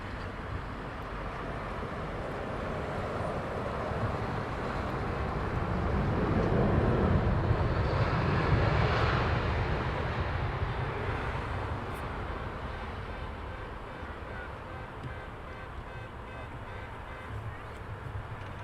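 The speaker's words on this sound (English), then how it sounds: "Air Lingus next on approach. On final, over the threshold." An Aer Lingus airliner on final approach over the runway threshold at Heathrow in the evening, engine rumble swelling as it passes closest midway and then fading away, with faint talk in the background.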